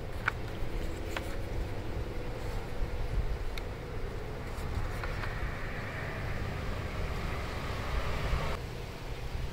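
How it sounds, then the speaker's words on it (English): Steady wind buffets a microphone outdoors during a Gemini GPSS-650 Bluetooth speaker unboxing, a constant low rumbling roar running unbroken through the whole stretch. "This wind is blowing, y'all. Pardon this wind, please."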